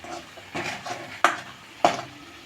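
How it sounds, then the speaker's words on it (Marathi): Ground masala paste being stirred in hot oil in a pan, with soft scraping strokes and a low sizzle, punctuated by two sharp utensil clinks against the pan. "आता आपण तेलामध्ये चांगल्या प्रकारे मिक्स करून ते फ्राय करू"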